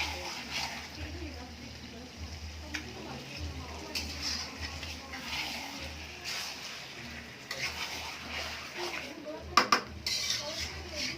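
Goat meat sautéed and stirred in a pan, with metal utensil scrapes and clatter against the pot over a steady low background, quiet and continuous, with a few sharper clinks near the end.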